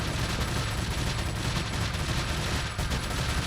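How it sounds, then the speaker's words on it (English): Continuous machine gun fire from a Resident Evil 4 game, a dense, unbroken stream of rapid shots that stays loud and even across the whole stretch. "And plus, the machine gun does not do a lot of damage."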